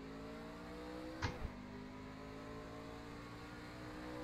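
Race cars in a truck series racing video game at ISM Raceway roll off at the green flag, with steady engine drone, layered engine harmonics throughout and a brief louder swell of revving.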